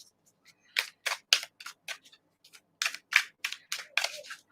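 Tarot cards shuffled by hand, sounding as a run of crisp, quick riffling snaps in two bursts separated by a short pause, close and clear with no talk.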